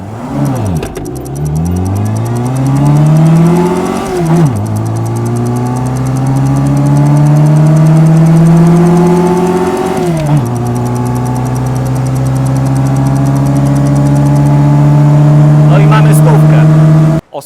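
A Reliant Rialto GLS three-wheeler carrying two people weighing 120 kg together accelerates hard. The engine note climbs loudly through two gear changes and rises again after each, heard close from inside the car.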